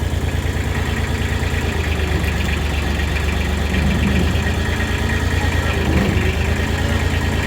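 A heavy tractor engine idles close by with a steady, knocking rumble and vibration that continues without a break.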